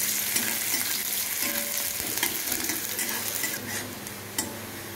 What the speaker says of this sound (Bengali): পেঁয়াজটাকেও লাল লাল করে ভেজে নিতে হবে।